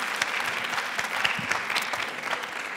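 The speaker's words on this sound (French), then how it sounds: "merci de l'applaudir" An audience claps steadily for a few seconds in a quiet indoor hall, the applause fairly soft and even with no voices over it.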